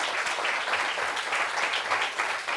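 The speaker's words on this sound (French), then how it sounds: "Applaudissements pour ce bleu syndicat, s'il vous plaît." A dense, steady wash of clapping from a large audience fills the whole stretch, loud and continuous, greeting an outfit at a public gathering.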